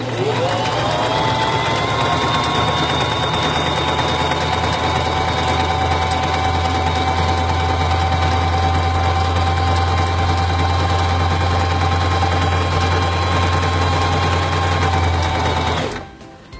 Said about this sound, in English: To sew the honeycomb stitch, place the fabric under the presser foot, lower the presser foot,